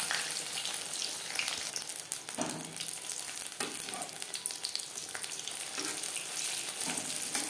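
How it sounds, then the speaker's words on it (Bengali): Battered pumpkin flower fritters fry in hot oil, a steady crackling sizzle with occasional sharper pops and stirring, close and continuous with no talk. "একটা সাইড ভাজা হয়ে গেলে অপর সাইডটা উল্টে দেবো।"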